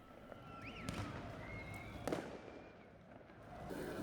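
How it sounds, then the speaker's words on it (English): Fireworks go off into the night sky over a crowded square during a demonstration in Kurdistan, with distant bangs, crackles and whistling rockets over a murmur of crowd noise. "with fireworks being let off into the night sky"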